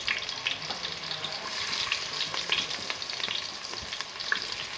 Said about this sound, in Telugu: ఒక గిన్నెలో ఆయిల్ వేసుకొని జీలకర్ర ఆవాలు వేగనివ్వాలి తర్వాత ఆనియన్స్ వేయాలి